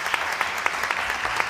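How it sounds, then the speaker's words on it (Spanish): Brief burst of audience applause at an event in Zaragoza, with sharp claps rising in even pulses, close and fairly loud, no talk over it. "yo creo que se merecen un aplauso"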